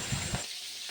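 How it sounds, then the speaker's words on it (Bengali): Oil sizzles and crackles steadily as shrimp fry in a pan over a low flame, with a brief louder burst early on before settling into a softer hiss. "এইভাবে প্রত্যেকটা চিংড়ি ভালো মতোভাবে হালকা ফ্লেমে ভেজে নিতে হবে।"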